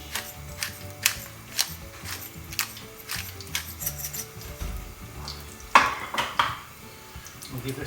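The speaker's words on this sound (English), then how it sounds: "We'll give this a little stir." Pancetta, mushroom and garlic carbonara ingredients stirred in a pan over light sizzling, with clicking, scraping utensil taps against the metal and one louder clatter midway.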